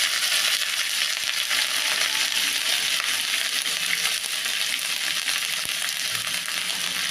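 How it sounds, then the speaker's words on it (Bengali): Cumin, bay leaf and ginger frying in hot mustard oil, a steady dense sizzle that stays loud and close throughout with no talking. "জিরেটা ফোড়ন দিয়ে দিয়েছি আগেই সর্ষের তেলের মধ্যে"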